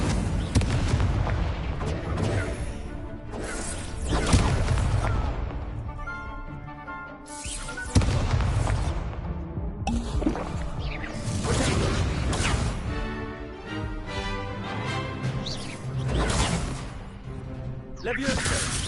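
Fiery Incendio and Confringo spell blasts from Hogwarts Legacy burst out in loud, repeated booming impacts and whooshes, layered over game music and effects, with a character's voice shouting spell names in between.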